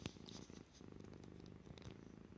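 A house cat purrs right beside a microphone, a steady, rhythmic, close purr that runs throughout without speech.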